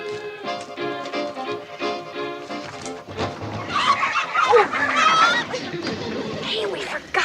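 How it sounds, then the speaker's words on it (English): A carload of chickens in a train car, clucking and squawking loudly, busy and close, with people talking among the birds. "We'll have to ride with a carload of chickens."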